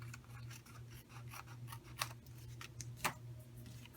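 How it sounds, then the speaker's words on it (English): Scissors trim the edge of a stamped paper card, quiet crisp snips repeating irregularly close to the mic against a faint steady hum. "I turn it over and I'm just going to trim this edge off"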